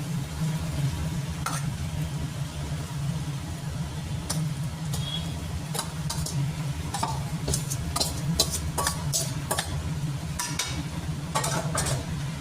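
Rice being mixed into cooked chicken in a pan gives a soft, continuous low sizzle, broken by scattered sharp ticks and scrapes of the utensil against the pan; no talking.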